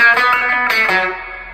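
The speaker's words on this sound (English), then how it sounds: "Here's some kind of reverb." An electric guitar plays through a Boss Katana amp with a springy reverb effect, sounding a few loud, close, distorted notes whose sustained tail rings out and decays.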